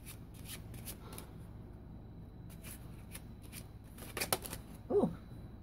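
A deck of fortune-telling cards is shuffled and riffled close by in a quiet room, with soft rapid flicks and a few sharper snaps and taps near the end.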